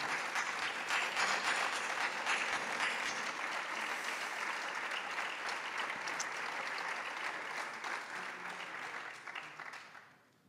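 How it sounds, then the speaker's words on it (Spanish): A hall audience applauds at length for a production director at a flamenco festival poster presentation in Puente Genil, a thick, even roar of clapping that thins and fades out at the end. "yo pediría, por favor, un aplauso al principal realizador de la producción, que es Jorge Ruiz"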